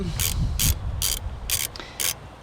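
A ratchet loosening through-bolts, giving six quick bursts of close, crisp clicking at a steady rhythm with a low rumble between strokes and no voices.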